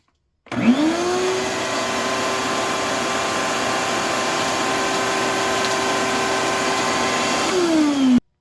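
A DeWALT Stealth Sonic 6.5-horsepower wet/dry shop vac switches on, holds a loud, steady motor whine and airflow roar for several seconds, then spins down and cuts off.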